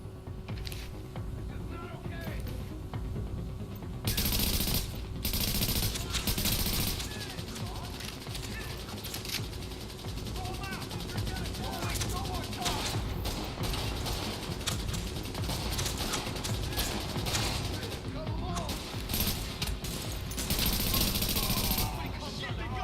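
Gunfire in the video game The Division, repeated bursts of shots at irregular intervals over a continuous background of game sound, with talk now and then.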